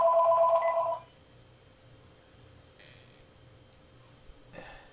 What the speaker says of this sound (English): Phone's always got to ring.